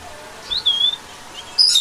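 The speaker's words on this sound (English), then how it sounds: "P for parrot." Parrot calls: a few short, sharp whistling chirps, one near the middle and another at the end, clear and fairly close over a quiet background.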